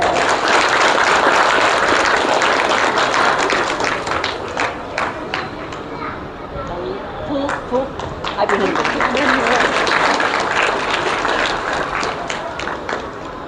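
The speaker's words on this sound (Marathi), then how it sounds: "तर त्या सगळ्यांसाठी सुद्धा जोरदार टाळ्या जातात" Audience at a one-day meditation camp applauding loudly and steadily, dense clapping that swells, dips briefly midway and builds again, with some voices mixed in.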